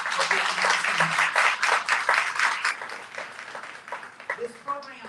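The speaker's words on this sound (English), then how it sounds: "could you please give them a round of applause for being here tonight" An audience at an honors convocation in a hall claps, a dense burst of applause that thins and fades, with a voice speaking near the end.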